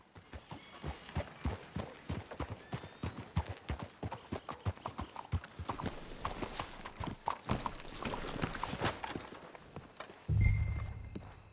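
Horse hooves clip-clopping in Red Dead Redemption 2, a steady walking rhythm of close, crisp hoofbeats from several horses, with a brief low thump near the end.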